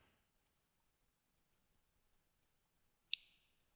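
Computer mouse double clicking, a series of crisp, quiet paired clicks repeating at short irregular intervals in an otherwise quiet setting.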